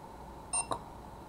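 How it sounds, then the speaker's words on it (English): A SECRUI wireless doorbell chime in program mode gives two quick electronic beeps, the first a brief tonal chirp and the second a shorter blip, close and clear over faint background hiss. "Beeps twice."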